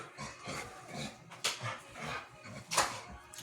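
An American Staffordshire Terrier makes soft, faint whimpers and small whines against a quiet indoor background, with two sharper yips standing out.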